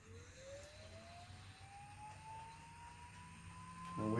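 A Tesla Model 3 rear drive unit electric motor spinning up on a test bench, its faint whine rising steadily in pitch, with a louder buzz at the very end.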